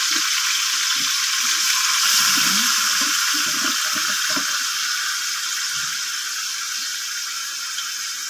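Marinated pork hock dropped into a hot pan gives a loud, steady broadband sizzle that slowly eases, with faint low knocks of handling underneath and no talk.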